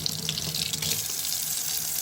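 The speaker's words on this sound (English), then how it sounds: "I'm going to just bathe him in the sink, trying to get the water right." Tap water runs from a sink faucet in a laundry area while the temperature is set for bathing a rescued animal: a close, continuous hiss and splash with no talk.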